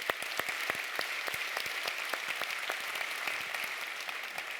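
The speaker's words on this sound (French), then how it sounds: "On peut aussi applaudir tout le monde" A conference audience at DevFest Nantes applauds the organizing team, a continuous crowd of many hands clapping at a fairly distant, even level.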